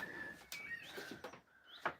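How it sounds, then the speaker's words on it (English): Outdoor birdsong in Northumberland comes as a few short whistling calls and chirps in quick succession, fairly faint against a quiet background, with no talk. "Birds are being very, very loud."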